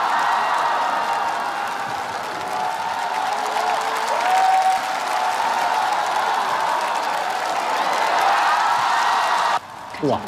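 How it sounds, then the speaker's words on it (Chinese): A studio audience at a televised singing competition breaks into loud, sustained applause with scattered cheers as a singer is welcomed on stage, the clapping dense and continuous before cutting off near the end. "掌声有请第七位竞演歌手"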